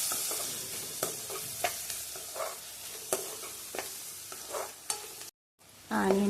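Onions and green chilies with turmeric fry in a pan under a soft constant sizzle, while a spoon scrapes and stirs in about nine distinct strokes, with a brief gap near the end.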